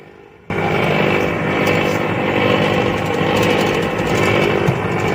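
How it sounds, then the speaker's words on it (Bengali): A Samsung microwave oven runs with its turntable motor failing to turn the plate properly, giving a loud, continuous grinding buzz that starts abruptly and holds steady throughout. "মেশিন থেকে যে নয়েজটা আসছে সেটা হচ্ছে এখানে যে প্লেট লাগানো আছে, প্লেটের নিচে মোটরটা ঠিকমতো ঘুরতে পারছে না"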